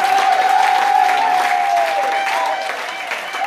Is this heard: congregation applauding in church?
yes